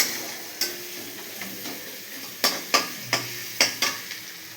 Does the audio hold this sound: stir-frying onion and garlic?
yes